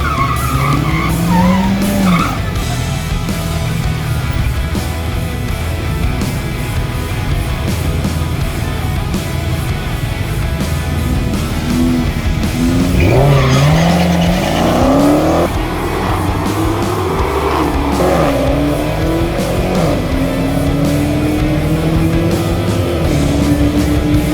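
Mustang and Dodge Challenger Hellcat drag racing heads-up, engines roaring and rising through gears with tire squeal, loud and continuous.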